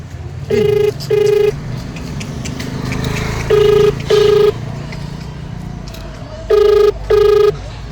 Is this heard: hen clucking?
no